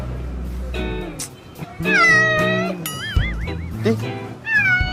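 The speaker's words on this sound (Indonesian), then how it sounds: "Kucing siapa nih?" A cat meows several times, drawn-out and wavering, with people talking in the background throughout.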